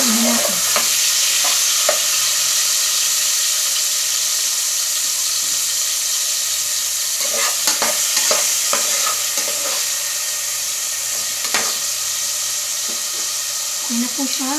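Beef kaldereta stirred in a pan over a loud, steady hiss of frying and steam, with clusters of spoon scrapes and clinks coming in bursts and a few brief spoken words.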